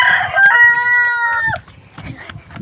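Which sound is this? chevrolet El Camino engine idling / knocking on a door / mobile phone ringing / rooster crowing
rooster crowing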